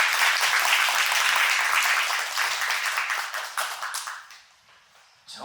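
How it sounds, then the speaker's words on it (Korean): An audience at a 2025 education administration forum applauds warmly as a presenter takes the stage, a full, steady clapping that thins out and dies away near the end. "여러분 다시 한번 따뜻한 박수 부탁드립니다."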